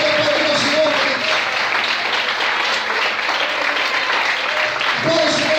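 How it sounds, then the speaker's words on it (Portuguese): A worship congregation bursts into sustained applause at an evening church service, a dense, loud clapping texture lasting throughout with voices mixed in. "Você pode aplaudir ao Senhor, querido."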